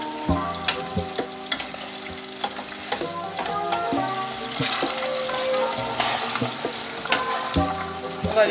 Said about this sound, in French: On va le frire.